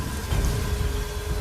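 Heavy rain pours during a storm at night, a steady, dense hiss that fills the whole stretch with no voices or breaks.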